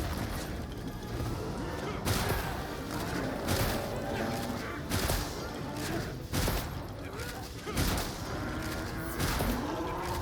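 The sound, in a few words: shotgun light bowgun firing in the video game Monster Hunter Wilds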